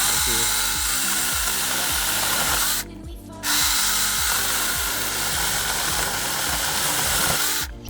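Mini cordless saws, an AVANT and a Stihl GTA26 prototype, running under test: a loud, steady motor whine close by that stops once for a moment, then starts again.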